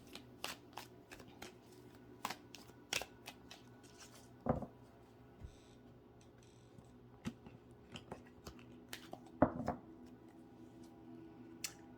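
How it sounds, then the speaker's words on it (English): Tarot cards shuffled and drawn during a reading: repeated crisp riffling and flicking bursts, close and fairly quiet, with two louder snaps of cards being pulled, no speech. "let's pull some more cards"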